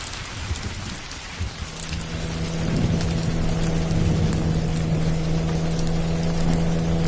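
Heavy rain pours steadily on a stormy night at a bus stand, with a low rumble of thunder building and holding underneath the dense, continuous hiss of falling water.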